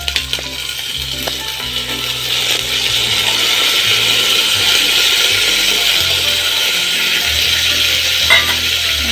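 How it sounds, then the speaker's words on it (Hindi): Chana dal added to onions frying in a pan and stirred, a loud, steady sizzle with scraping and knocking from the stirring running throughout, close up. "अब इसमें हम चने की दाल को डाल देंगे"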